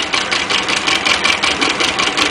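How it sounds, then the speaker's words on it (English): A small turbine drives a shake flashlight, producing a fast, steady mechanical buzzing and rattling vibration that continues evenly throughout, close and fairly loud. "turbine very easily runs the shake flashlight."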